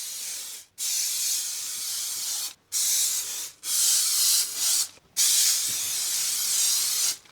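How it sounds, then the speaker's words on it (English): Repeated hissing sprays from a cooking oil spray can, five bursts of varying length separated by short pauses, close and loud. "Oil spray,"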